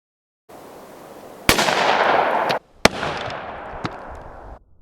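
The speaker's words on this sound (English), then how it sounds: "I'm going to shoot through the ribs, give it more resistance, and see if it expands into that gel" Hornady .357 Magnum LEVERevolution rounds fired into ribs and ballistic gel: two or three sharp, loud gunshots, with a sustained noisy burst and echo after the first crack.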